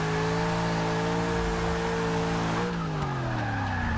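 A Chevy SS drifting in Forza 6 with manual clutch dumps, its engine droning loudly at steady revs with tire squeal, then the pitch drops sharply as the revs fall away.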